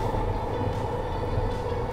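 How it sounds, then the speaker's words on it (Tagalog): An old-model passenger train rolls past with a steady, loud rumble and low droning hum, continuous and close, with no voices. "ito na po yung pinakalumang modelo ng tren"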